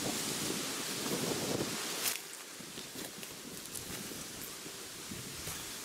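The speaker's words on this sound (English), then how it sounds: "It's quite windy" Gusty wind at an autumn campsite on a farm, buffeting the microphone in a steady broad rush that eases slightly partway through, with faint rustling beneath and no talk.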